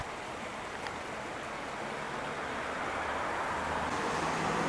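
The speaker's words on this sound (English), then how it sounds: "Water is surging." Steady rushing water pours down a small waterfall in a park after heavy rain, a dense broadband roar that holds constant and swells slightly louder toward the end.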